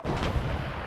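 A rocket fire explosion in the ARMA 3 combat game, a single dense rumbling boom that sustains as a heavy low roar through the whole short moment, no speech.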